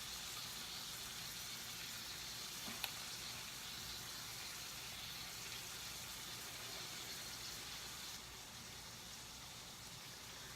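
Shrimp seasoned with Old Bay sizzle steadily in a hot pan, a dense, even crackling hiss that runs the whole time with no pauses and no talking over it.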